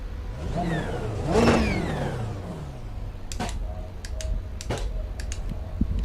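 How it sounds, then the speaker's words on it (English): In the racing video game iRacing, a race car engine revs and sweeps past early on, followed by a steady ambient hum with sharp mechanical clicks and bursts of pit activity. "Yep, I can hear the pit sounds."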